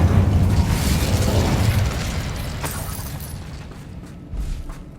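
An Incendio fire spell goes off in Hogwarts Legacy as a loud, booming blast. It rumbles and slowly fades over several seconds, and a smaller thump follows near the end.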